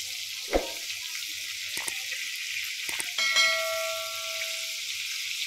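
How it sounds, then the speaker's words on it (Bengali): Chicken pieces frying in hot oil give a steady, fairly quiet sizzle, broken by a few sharp clatters and a brief ringing tone near the end. No one talks. "এই তো আমার চিকেন ফ্রাইগুলো একদম পারফেক্টভাবে হয়ে গেছে"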